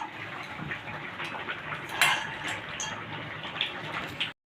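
Fried lentil dumplings (bori) go into a pot of boiled potatoes while a Bengali banana-flower curry cooks. There is a soft, continuous simmering hiss with a brief clink of utensil against pot, faint and close.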